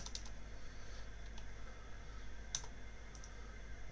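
Sparse mouse clicks during a session of the clicker game Blush Blush: a few quick clicks near the start, then scattered single taps with long pauses, close and faint over a steady low hum.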